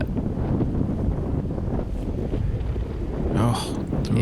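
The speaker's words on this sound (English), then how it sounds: "there was a pretty good 20 to 30 mile an hour headwind in my face" Strong 20 to 30 mph headwind on a disc golf course roars and buffets the microphone throughout, a loud, constant rushing noise with a brief brighter gust near the end.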